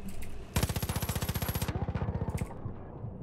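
Rapid automatic gunfire from a weapon in the Far Cry New Dawn video game, a loud sustained burst of evenly spaced shots lasting about two seconds, then fading into quieter game ambience.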